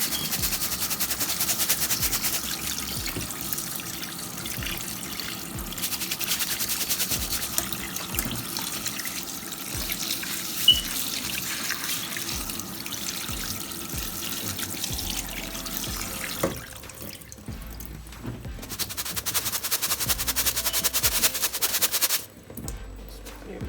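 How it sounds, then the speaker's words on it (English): Kitchen tap water pours over rice in a colander, a steady close rushing stream that cuts out briefly, resumes, then stops near the end, with no speech. "I'm just gonna open the tap and then just wash it for a little bit."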